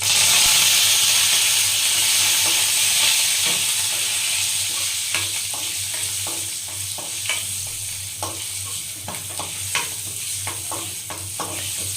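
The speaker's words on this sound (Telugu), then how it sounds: "మాడిపోకుండా గోల్డెన్ కలర్ వచ్చిన తర్వాత ఫ్రై చేసుకోండి" Dried red chillies and curry leaves fry in hot oil for a Telugu mango dal, giving a loud, continuous sizzle and hiss with intermittent scrapes and clinks of a stirring spoon against the pan.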